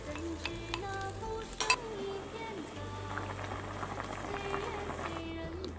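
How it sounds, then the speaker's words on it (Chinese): Sauce poured over pork ribs and potato chunks in a pan, with a steady low sizzle and bubbling, a stirring clatter near the middle and continuous simmering under faint background sound. "倒入我们之前准备好的酱汁。"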